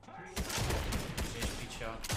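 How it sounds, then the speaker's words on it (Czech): SMG fire in a Fortnite match comes as a rapid burst of loud shots with sharp repeated cracks, while a voice talks over the gunfire. "To SMGčko ti prostě střílí rovně a vyjede si úplně každýho."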